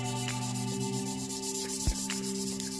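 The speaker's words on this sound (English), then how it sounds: "it's going to clean off and sharpen that blade to where it's nice and even" A hair clipper's bottom cutting blade is rubbed side to side against a flat sharpening surface, giving a soft, continuous scraping rub over a steady background hum.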